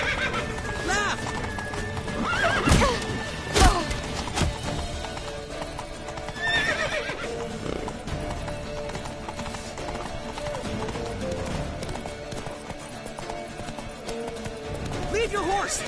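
Hooves clop rapidly as horses run in The Witcher 3: Wild Hunt, with loud whinnies and neighs bursting out, mixed with game sounds and shouting voices.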